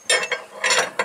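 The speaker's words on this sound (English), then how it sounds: "I'm using a hitch ball wrench." A hitch ball wrench turning a nut on a Wheel Horse Workhorse 48 mower deck, heard as four quick metallic ratcheting clicks close by.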